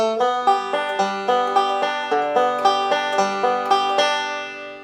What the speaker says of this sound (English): actually going to be doing alternating thumb rolls the whole time